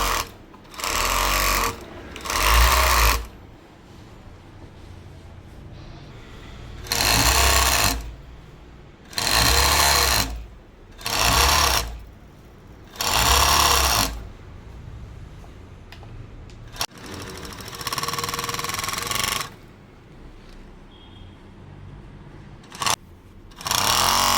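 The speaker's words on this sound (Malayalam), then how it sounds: "കിനാരി മിഷ്യത്തിലാണ് അടിക്കുന്നത്." Sewing machine stitching along a fabric edge of a skirt lining, running in repeated loud bursts of a second or two separated by pauses, close up, with no talk.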